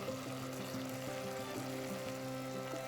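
Tomato sizzles in hot oil in an Instant Pot on saute mode with ginger garlic paste, a steady close frying hiss with faint stirring clicks, loud and continuous with no talk.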